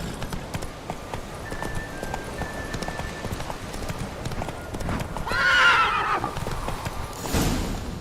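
In The Witcher 3 video game, a horse's hooves clop at a steady gallop throughout, and a loud whinny rises near the end over the moving hoofbeats.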